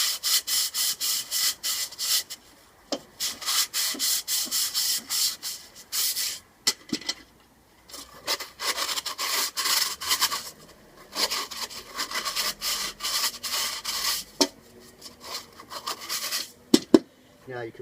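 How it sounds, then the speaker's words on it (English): A hand sanding pad scrubs out the inside of an old metal paint kettle with rapid, rhythmic back-and-forth scratchy strokes, up close, broken by short pauses. "give it a good sand out."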